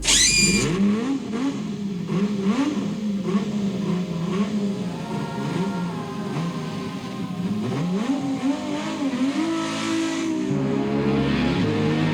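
A Ferrari V12 engine revs hard, its pitch climbing and falling in repeated sweeps. The sound is loud and continuous, close up, with no talking.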